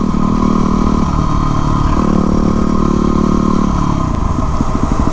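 Yamaha WR250R supermoto motorcycle carving twisty canyon roads, its engine loud and close with a steady drone that rises and falls through throttle changes and shifts, ending in a choppy pulsing stretch.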